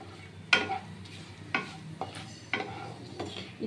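Bay leaves and cumin seeds sizzle in hot oil in a large kadai, with a few sharp scraping stirs cutting through a soft, steady frying hiss.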